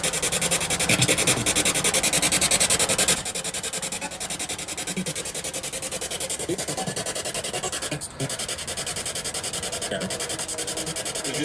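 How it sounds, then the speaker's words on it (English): Spirit box radio sweeping through stations at a reputedly haunted film location, giving a continuous rasping static hiss with rapid choppy pulses, loud and steady throughout with a brief dip partway. "We're going to do a spirit box session."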